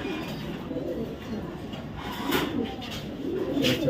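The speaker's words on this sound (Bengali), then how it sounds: "সুপার মিলি রেসার কবুতর" A female racer pigeon coos in low, rolling phrases close by, with the calls swelling and fading over a few seconds against a murky room background.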